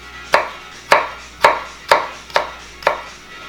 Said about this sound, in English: you're going to cut little slices like that and then come back at it